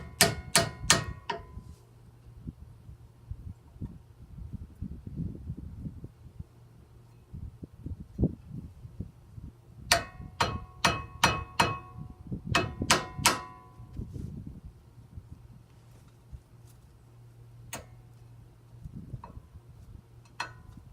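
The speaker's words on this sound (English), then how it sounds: "you might want to have a hammer or a mallet and gently tap it in there" Hammer tapping a brake pad into the caliper of a 2005 Nissan Xterra, sharp metallic clinks in quick clusters of three to five strikes, separated by quieter handling clatter and scraping.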